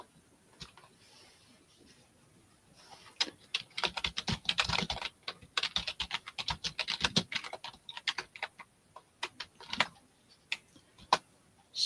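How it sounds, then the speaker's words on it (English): Someone types steadily on a computer keyboard during a live auction, a close, fairly quiet patter of key clicks in bursts with brief pauses, no talk over it. "I'm just typing away and not paying attention to this, looking at the screen."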